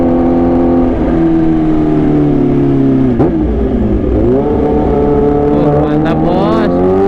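Kawasaki H2 supercharged motorcycle engine revving hard and pulling away, a loud close harmonic whine rising and falling in pitch with throttle blips, with some talk underneath.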